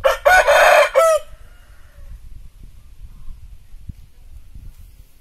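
A Bangkok fighting rooster with glossy plumage gives one loud, close crow lasting about a second, followed by quiet ambient noise and faint movement.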